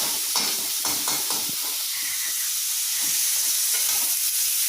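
Onions sautéing in a pan for paneer gravy, a steady close sizzle with bursts of scraping and stirring, the sizzle continuing alone without talk.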